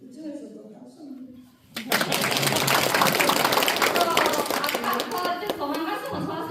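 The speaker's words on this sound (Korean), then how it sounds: "이쪽에서도 박수 한번." An audience at a Daegu Dalseong district community event bursts into sustained applause after a voice, with dense clapping filling the room until the end.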